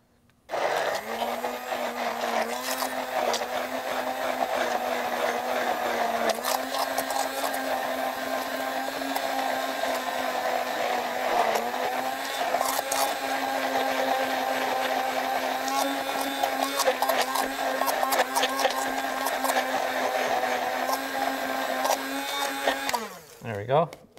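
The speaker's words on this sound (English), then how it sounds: "I'm gonna use this immersion blender and blend this all up, incorporate it into a nice smooth dressing." Immersion blender whirring steadily through Caesar dressing with garlic, onion and anchovies, a loud continuous motor drone with slight pitch shifts, running close for about twenty-three seconds before cutting off.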